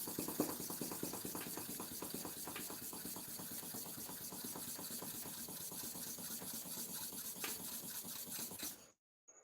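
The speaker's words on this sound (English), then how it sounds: "I'm sharpening here now." Barber razor blade stroked to and fro while being sharpened, a quiet continuous rasping scrape with even repeated strokes for about nine seconds, then it stops abruptly.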